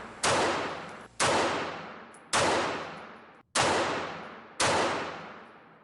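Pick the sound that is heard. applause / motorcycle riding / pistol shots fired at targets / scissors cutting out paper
pistol shots fired at targets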